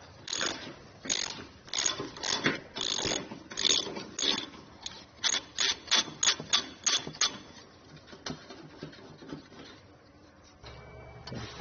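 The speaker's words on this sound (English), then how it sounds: "We'll take a 15mm socket and we're going to completely remove the front bolt on these tow hooks" Repeated ratchet clicks from a 15mm socket ratchet, with rapid bursts of short, close clicks as the tow hook bolt on a 2018 Ford F-150 is backed out, then a few scattered clicks and a brief pause near the end.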